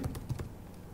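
A few quick keystrokes are typed on a computer keyboard while entering an SQL command, with close, soft clicks over roughly one second.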